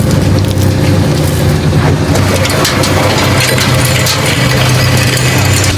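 A machine grinds dried cage-farm chicken manure from Tamil Nadu into fertilizer powder, giving a loud, steady, dense crushing roar with a low mechanical hum that continues unbroken throughout.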